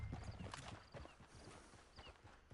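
Horse hooves clip-clop on the ground in the video game Red Dead Redemption 2, a quiet, steady run of footfalls lasting a few seconds with faint game ambience around them.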